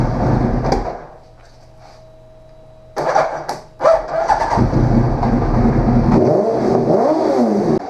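A 2003 Suzuki Hayabusa motorcycle that sat unused for six years, with the choke on, cranks and fires up: a brief mechanical clunk, a quiet pause, then the engine catches with a loud burst and settles into a rough, revving run.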